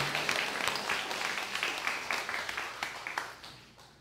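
Welcoming applause from a church congregation during a Sunday service, a steady wash of many hands clapping together at moderate volume, thinning slightly toward the end.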